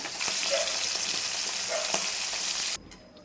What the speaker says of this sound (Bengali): ফোড়নে জিরে শুকনো লঙ্কা তেজপাতা দিয়ে দিলাম